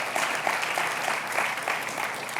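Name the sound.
congregation applause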